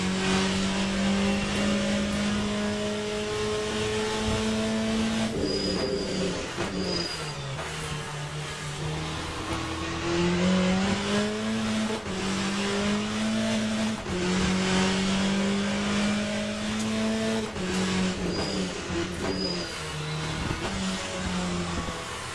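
A race car engine in the sim racing game Assetto Corsa revs loud and close, rising through the gears and dropping sharply under braking for corners, over and over, with faint tire noise and no talk.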